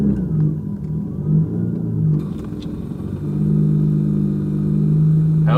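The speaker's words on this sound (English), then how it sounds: "It's probably just going to be my compressor kicking on for the bags." A low, steady motor rumble as an air compressor kicks on to fill the air suspension bags of a truck, heard up close, swelling slightly and then holding steady, with a faint click near the end and no talk.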